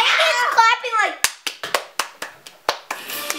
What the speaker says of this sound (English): Link is clapping like.